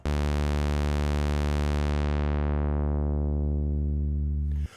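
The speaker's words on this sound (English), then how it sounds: "what we can do is we can model what this would sound like if we have the filter decay over time." A synth resonant bass holds one sustained low note for several seconds, its bright upper edge steadily dulling as the filter envelope decays, loud and steady before cutting off abruptly.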